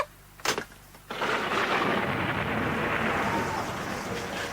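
Thunder crashing during a thunderstorm in a BBC radio drama of The Pickwick Papers: a sharp crack near the start, then a loud, sustained broadband rumble that rolls on steadily to the end with no voices.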